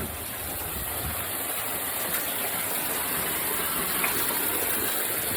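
Water gushing from a burst pipe during a flood: a loud, continuous broadband rush and spray, steady and close, with no pause across the whole stretch.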